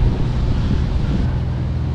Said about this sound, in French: Le vent s'est levé un petit peu.